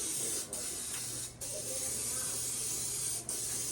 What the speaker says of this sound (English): I am gonna spray it with my olive oil cooking first.